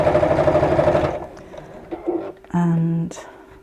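A sewing machine stitches along the opposite edge of matched fabric, running in a steady mechanical whir through the opening second with a voice over it, then short bursts of motor hum after a pause.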